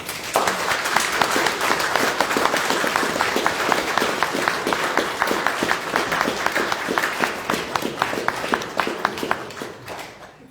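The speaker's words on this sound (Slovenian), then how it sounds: "Zato res je en velik aplavz." An audience at a magazine tour discussion event gives a long round of applause, with dense steady clapping that gradually turns into sparser, rhythmic individual claps before fading out.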